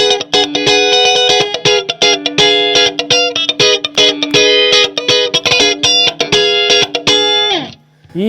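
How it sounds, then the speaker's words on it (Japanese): Electric guitar through a Marshall amplifier set between clean and crunch, lightly driven, played as a busy run of picked notes and chords with dynamic attack, ending on a sliding note that fades out. "クリーンとクランチの中間ぐらいがね、ちょうどそのピッキングのニュアンスで歪みを変えるぐらいの感じすると、結構マーシャル使いやすいですね"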